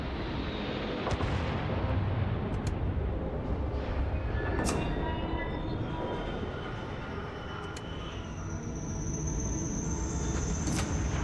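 Spaceship cannons firing in the Starfield video game, a heavy rumbling barrage with several sharp blasts and crackles at irregular intervals over a loud continuous engine drone, no talking.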